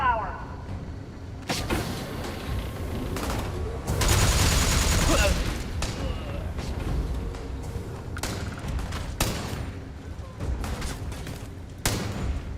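Rapid bursts of weapon fire erupt during space combat in the game Starfield, dense loud volleys and scattered shots layered over engine rumble and game effects, with voices speaking over the action.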